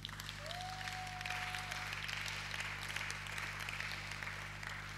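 A church congregation applauding together, a dense, steady wash of clapping that holds for the whole stretch at moderate level, with a brief tonal whistle early on and a low hum underneath.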